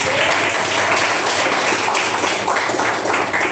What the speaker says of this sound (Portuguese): Irmã Dena Santos, palmas e glória a Deus.